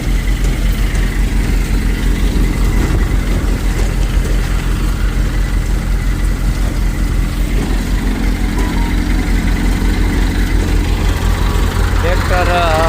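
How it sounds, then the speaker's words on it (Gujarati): Eicher Super Power 380 44 hp diesel tractor engine runs a thresher at steady, unchanging RPM, a loud continuous low drone with machinery rattle throughout. "ટ્રેક્ટર આરપીએમ ડ્રોપ જ નથી કરતું, એક સરખું હાલે."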